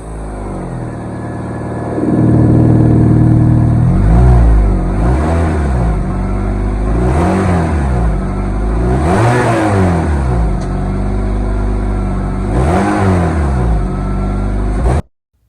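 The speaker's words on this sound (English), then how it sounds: "I'm gonna start up the car, so you guys can hear it, cause I got a hole in it." A Honda Civic engine with a hole in the exhaust front pipe idles and revs repeatedly with a loud, rough, raspy exhaust rumble, each rev swelling and dropping back for about fifteen seconds.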